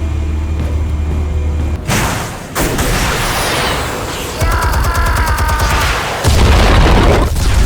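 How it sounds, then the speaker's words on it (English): Explosives detonate in Batman: The Telltale Series, a string of loud, heavy booms and blasts rolling one after another with rumbling low end and debris-like crackle. "Explosives armed. Fire when ready."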